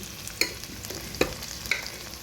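Mutton gravy being stirred into rice cooking in a pot for mutton biryani, three distinct spoon knocks against the vessel over a soft steady sizzle, close and alone with no voices.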